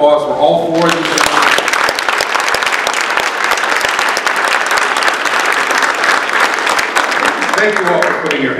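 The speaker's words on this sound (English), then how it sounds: "can I just have a round of applause for all four of these?" An audience at a chamber of commerce mayoral forum applauds the four mayoral candidates, with dense, steady clapping that fills the room and carries on for several seconds, loud and close.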